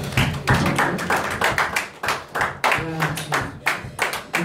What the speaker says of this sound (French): on va applaudir par le bon Dieu.